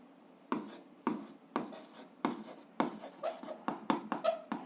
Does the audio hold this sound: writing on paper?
yes